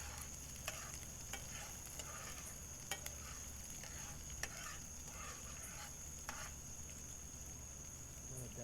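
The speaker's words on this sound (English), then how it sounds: "It's frying up nicely." Vegetables sizzle steadily in a pan, a soft continuous crackle with occasional light clinks of stirring, fairly quiet and close.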